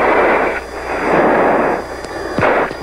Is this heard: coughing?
no